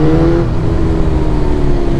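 A budget motorbike accelerates hard on a road, its engine revving loudly and close with a rising mid-range growl and steady rumble throughout.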